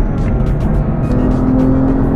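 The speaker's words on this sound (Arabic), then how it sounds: "واكيد عم تسمعوا صوت السيارة، وهذا الشيء بيعود للعادم يلي زودت فيه لحتى يتأقلم مع المحرك الكبير والأحصنة العالية" Loud, steady engine drone of a BMW M car, an M5 or M2 Competition with an upgraded exhaust, running at a track, holding a sustained note through the whole short stretch with no talking.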